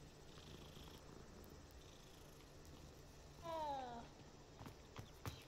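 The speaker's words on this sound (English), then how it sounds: "Can pet cats in the game." A cat purrs softly while being petted in the video game Hogwarts Legacy, a faint steady rumble under quiet ambience, with a brief meow-like call and a few footsteps.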